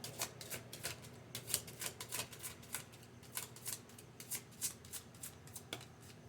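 A deck of Archangel Oracle cards is shuffled by hand at close range, giving a run of quick, crisp riffling bursts in an irregular rhythm, with no voice over them.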